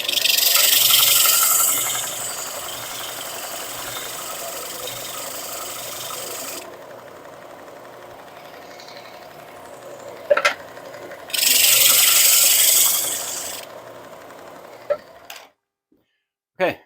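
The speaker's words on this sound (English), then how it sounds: "This is my rigid oscillating belt and spindle sander." A Ridgid oscillating belt and spindle sander working wooden lantern pieces gives two loud, harsh bursts of rasping abrasion over a steady motor hum, separated by a quieter stretch.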